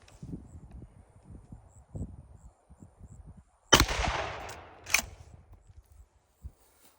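A 12 gauge shotgun firing a 3.5 inch magnum shell outdoors, one sharp loud blast with a rolling echo, followed by a second fainter crack a moment later over quiet rustling.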